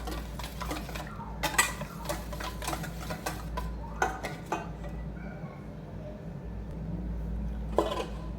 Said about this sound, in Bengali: এখন বেটারটা আমি ভালো করে ফেটে নেব।